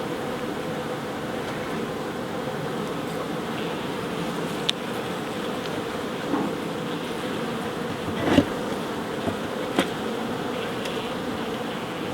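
Honey bees buzz in a steady, close, even drone inside an opened beehive, with a few faint knocks and clicks from handling the hive.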